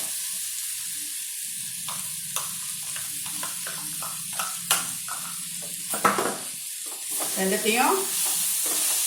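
Sprouts and grated paneer stir-fried in a pan, with a steady sizzle and repeated scraping stirs and clinks; a voice speaks briefly near the end.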